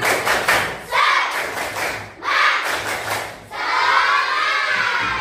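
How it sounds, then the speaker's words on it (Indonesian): A school class performs a tepuk semangat rhythmic clapping chant, children's voices chanting in unison while hands strike in quick patterned bursts, loud and close, in three surges with brief pauses between. "Tepuk semangat."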